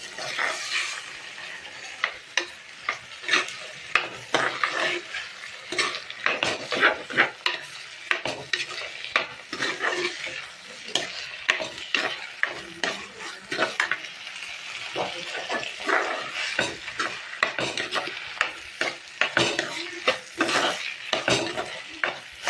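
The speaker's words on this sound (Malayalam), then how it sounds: "ഇനി ഇത് നമുക്ക് നന്നായി മിക്സ് ചെയ്യാം" Tomato rice being mixed in a pot, with a constant stream of quick scraping and clinking spoon strokes against the metal, close and fairly loud, carrying on without a break.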